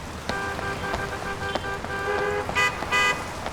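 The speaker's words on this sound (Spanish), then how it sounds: "No tenía paraguas o chubasquero y la lluvia iba cada vez a más." Heavy rain pours steadily on a city street at rush hour, a constant hiss of drops close by, with cars passing and several short car horn toots sounding near the end.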